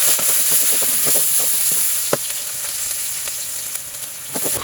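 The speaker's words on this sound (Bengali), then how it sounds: "এখানে আমি আরো কিছু তেল দিয়ে দিচ্ছি। এখন প্রথমে পেঁয়াজ দিয়ে নিব।" Chopped onions sizzle as they fry in fresh oil for a spiced eggplant and mutton curry, a steady close broadband hiss with scattered crackles and a few spatter pops, no talking.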